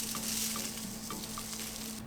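Dry rice pours steadily into a tart crust as pie weights while vegan mini lemon tartlets are prepared, a close, continuous granular patter with a few faint ticks.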